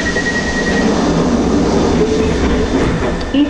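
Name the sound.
London Underground D-stock train passing the eastbound platform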